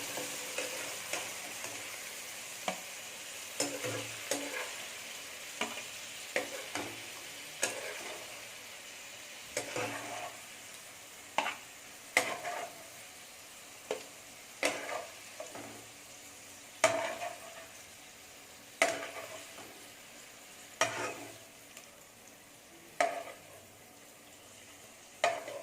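Paneer cubes frying in ghee in a pan, sizzling quietly beneath a series of sharp scraping and stirring clicks from a spatula at irregular intervals, with no voices.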